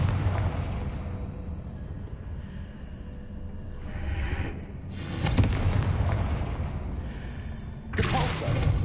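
Confringo explosive spell cast in the video game Hogwarts Legacy: several booming blasts with broad crackling bursts, the loudest near the middle and at the end, over a steady rumbling backdrop.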